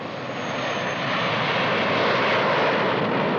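A fixed-wing airplane engine drones steadily in flight, a loud, continuous broadband roar that swells slightly and holds for several seconds with no voices over it.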